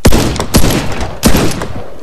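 Three loud, booming shotgun blasts from the online shooter Warface, spaced roughly half a second and then three-quarters of a second apart, each with a short echoing tail.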